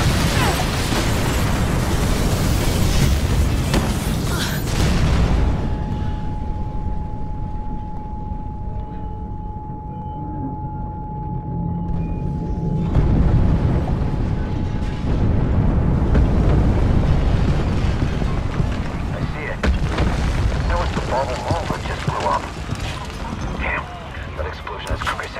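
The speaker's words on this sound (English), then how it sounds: "Big explosion over here!" A loud explosion bursts in the Mirror's Edge Catalyst video game, a heavy boom and rumble followed by a tonal ringing lull, then renewed debris and mechanical noise.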